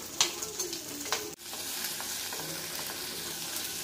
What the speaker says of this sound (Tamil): ரெண்டும் சேர்த்து கொஞ்ச நேரம் எண்ணெயில் கொஞ்சம் வேக விடணும்